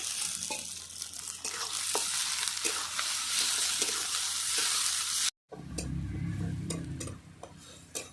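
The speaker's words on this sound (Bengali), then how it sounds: "পেঁয়াজটা ভালো করে লাল করে নেব একই সঙ্গে দিয়ে দেবো টমেটো কুচি" Onion and chopped tomato fry in a pan with a loud, bright, continuous sizzle, then after a short cut comes a calmer stretch of sizzling with stirring scrapes.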